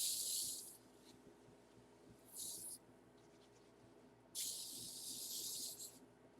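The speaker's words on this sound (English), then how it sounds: "I'm actually going to spray it on both sides because I want it good and stiff" Three bursts of aerosol spray hissing onto both sides of lace to stiffen it, a short one, a brief middle burst and a longer final one, close by and fairly quiet with pauses between.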